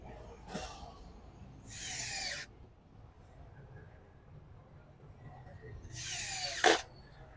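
An Edon AD18CB three-function cordless drill driving screws, heard as two or three brief bursts of whirring motor against a quiet low background hum, close by.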